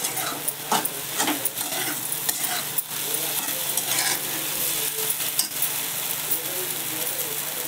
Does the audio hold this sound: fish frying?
yes